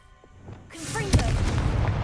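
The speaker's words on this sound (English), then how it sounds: "Confringo!" Casting the Confringo explosive spell in Hogwarts Legacy: a shouted incantation gives way to a sudden loud blast, followed by a sustained, rumbling roar that fills the scene.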